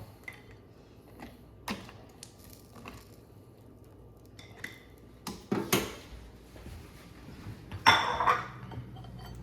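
Boiled lobster tails being lifted out of a pot: sparse, quiet clinks and knocks of utensils against metal, with a few louder clattering moments near the end and water dripping faintly, no talking.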